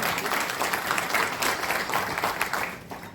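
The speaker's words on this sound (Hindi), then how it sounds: "जोरदार तालियों के साथ स्वागत" Loud, steady applause from an audience welcoming guests at a journalists' association state meeting in Raipur, a dense wash of clapping that holds for about three seconds before easing slightly.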